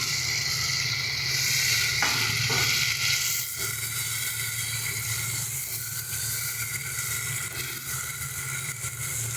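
Pre-fried pointed gourd (potol) sizzling in a pan after water is added for a masala potol curry, a steady loud hiss and crackle that stays continuous throughout, easing slightly after a brief stir.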